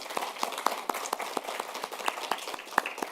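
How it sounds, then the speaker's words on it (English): An audience at an awards celebration applauds: a steady patter of close, crisp handclaps with some louder individual claps standing out. "So I ask you to join me in applause and congratulating J.P."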